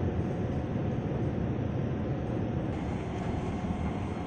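A commuter train pulls into platform 7 at Manggarai transit station, a steady loud low rumble of rail wheels and engine throughout, with no talking.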